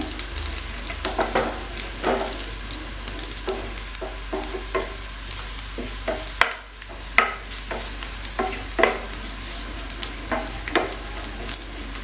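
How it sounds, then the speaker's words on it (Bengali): Panch phoron whole spices hitting medium-hot oil for arum spinach dal, a steady close crackling sizzle with scattered sharp pops and spits throughout, no voices. "এবার পাঁচ ফোড়নটা দিয়ে দিলাম"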